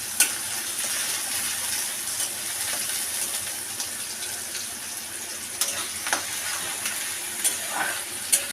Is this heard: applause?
no